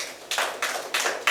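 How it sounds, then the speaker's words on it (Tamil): Audience applause after a poem is read at a Tamil speech event, heard as four short rising-and-falling bursts of clapping, moderately loud with no voices over it. "கைதட்டுங்க."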